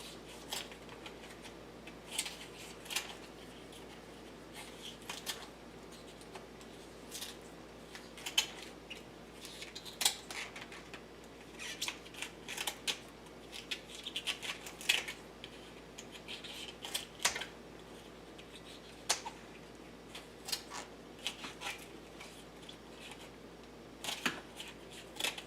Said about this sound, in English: we're going to snip all the tips one by one on the leaves.